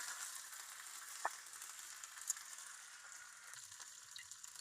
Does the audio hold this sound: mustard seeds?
yes